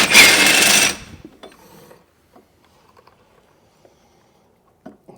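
A power tool spins a 16 mm socket on a ball joint nut of a Vauxhall Meriva A VXR, giving a loud whirring mechanical burst for about a second, followed by faint clicks and handling noises.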